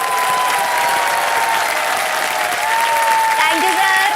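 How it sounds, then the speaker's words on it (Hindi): A studio audience on the game show KBC bursts into loud, sustained applause that fills the whole moment. Faint musical tones ring softly underneath. "तालियां बज जाएं जोरदार"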